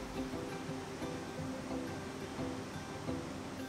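Steady, broadband rushing water from a mountain waterfall in Slovenia, constant and moderately loud with no breaks.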